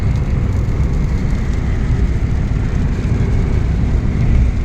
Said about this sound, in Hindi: यहाँ पे फिर बारिश आने लग गई है